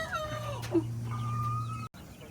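A flary-eyed gray hen clucks close by in a coop, a few short rising calls over a steady low mechanical hum, then a quick click and a brief gap of near silence.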